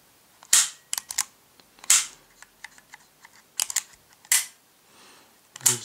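A Heckler & Koch P7 pistol is worked by hand, giving a series of sharp metallic clicks and clacks from the slide and parts, spaced irregularly with a few louder snaps, close and with no talking.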